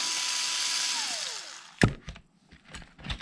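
A power screwdriver whirs steadily while backing screws out of a Maxx RC motor and winds down, followed by a few close clicks and taps of the tool and parts.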